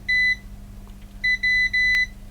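A multimeter's continuity tester, checking a Sony SA-CT290 sound bar coil shorted to ground, beeps high and briefly, stops, then returns in three longer tones over a low steady hum.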